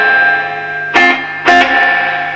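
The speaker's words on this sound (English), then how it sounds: "we have reverb" Reverb from a Selmer Thunderbird 50 MKII valve amplifier set to full: a sustained tone rings on, struck twice by sharp clattering bursts that splash and decay into the lingering wash.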